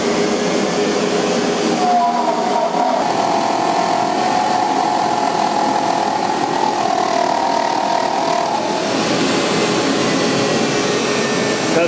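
A CNC machine cuts a casting pattern for bronze sand casting, giving a loud, steady motor and spindle drone with a whining cutting tone that rises and holds in the middle and then eases, with no talk.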